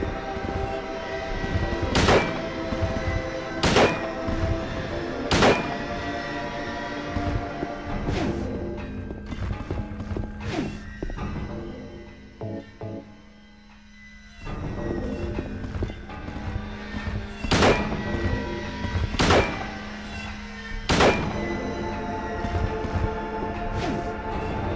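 Sharp gunshots from a video game, fired in quick bursts of three with a pause in the middle, loud and close over a busy game soundtrack.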